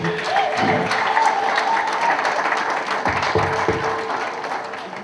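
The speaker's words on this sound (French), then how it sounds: "Applaudissez s'il vous plaît." Wedding guests clap together in a sustained round of applause, a dense, lively patter of many hands with a few heavier thumps mixed in.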